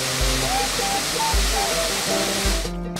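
Wala Falls, a waterfall in the Bomfobiri Wildlife Sanctuary, roars with fast-running water. The broad, steady rush stays loud and close the whole way through, with faint voices and a low hum underneath.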